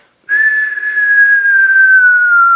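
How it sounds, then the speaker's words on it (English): A single long, loud whistle slowly glides downward in pitch, like a cartoon object falling, heard clearly on its own. "I heard this cartoon falling sound like a whistle"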